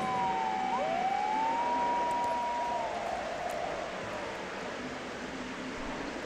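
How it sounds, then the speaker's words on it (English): Fire truck and police car sirens wail in the horror game Corpse Party: Blood Drive, a rising and falling electronic tone sweeping for a few seconds over a steady low street rumble, then fading into the background. "The sounds of fire trucks and patrol cars echoed through the streets."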